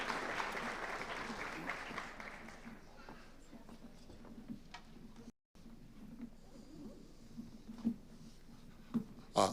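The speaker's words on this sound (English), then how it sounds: "Let's get another round of applause for" An audience applauds at a youth citizenship awards ceremony, a dense wash of clapping that fades after a few seconds, leaving room noise, soft voices and a few scattered taps.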